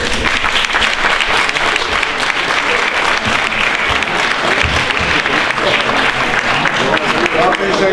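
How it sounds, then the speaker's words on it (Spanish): A room full of people at a talk on rock art claps in steady, dense applause that carries on loudly from start to finish. "Un aplauso"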